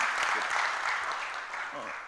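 A business chapter meeting audience claps for its visitor host team, a moderate, fairly distant patter of hands that fades slightly toward the end, with faint voices mixed in.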